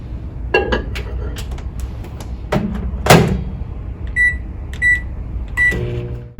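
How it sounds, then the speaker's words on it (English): A microwave oven hums steadily, with a few sharp door clunks and a series of high electronic beeps near the end. "Now you're going to pop this into the microwave for 90 seconds."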